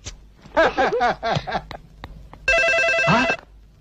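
An electronic telephone ringtone sounds in one loud, close burst of under a second, following a stretch of lively speech from people in the room.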